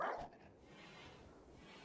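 A dog in the colony game Rimworld barks sharply once at the start while fighting, followed by a lower, muffled rumble of game ambience, no speech.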